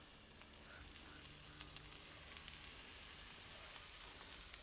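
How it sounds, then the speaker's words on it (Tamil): Eggplant fries in sesame oil or ghee in a pan, a steady soft sizzle and crackle held at a low, even level with occasional tiny pops, close by and without talk. "நல்லெண்ணெய் நெய்யோ இருந்தனாலும் இங்கே விட்டு பொரிச்சு எடுக்கலாம்"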